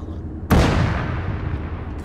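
A single heavy tank shell firing in the game Tekkit, one sudden loud boom followed by a long rumbling tail that slowly decays.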